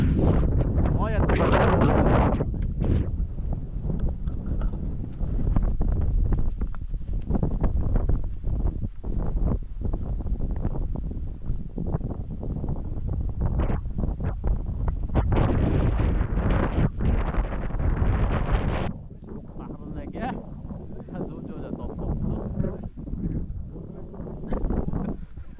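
Strong wind gusts roar across a microphone on the 2045-metre Toshtepa mountain peak, loud and buffeting for most of the time before easing near the end, with people talking intermittently.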